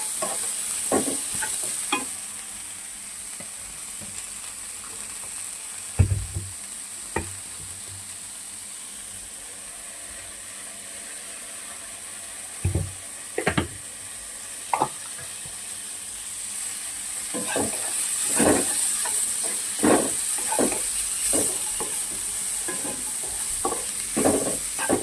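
Chutney ingredients fry in a pan with a steady soft sizzle and hiss, broken by scraping and stirring strokes of a spatula, close by with no talk.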